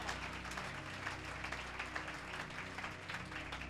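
Church congregation applauding during a Palm Sunday service, a thick wash of clapping with a low steady hum beneath it, fairly faint and continuous.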